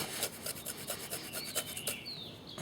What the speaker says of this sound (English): This is ginger here. I use this cheese grater here.